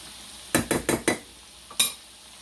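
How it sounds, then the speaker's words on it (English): Hushpuppy batter made with buttermilk is stirred in a bowl, with four quick close scraping strokes in a row, then a pause and one more stroke, and no talking. "Anyhow, we're going to stir it up."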